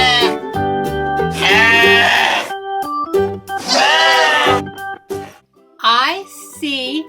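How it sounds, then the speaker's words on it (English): Sheep on a farm let out loud, close, wavering bleats, several drawn-out calls one after another with short gaps between them. "I see 3 sheep."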